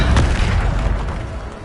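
A deep, booming blast from the Bombarda explosion spell in Hogwarts Legacy, one heavy low-end burst that rumbles on and slowly fades, loud and up close.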